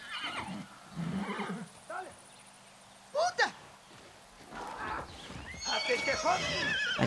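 Horses neigh and whinny in the Far Cry 6 video game, with sharp loud calls near the middle and hoof clip-clop, mixed with someone talking over the game sound.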